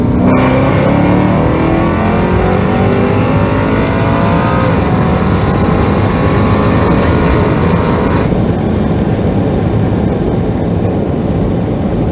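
A 1200hp Dodge Hellcat accelerates hard during a roll race pass, its engine a loud, continuous roar that climbs steadily in pitch for about eight seconds before the whine cuts off, leaving a sustained rumble.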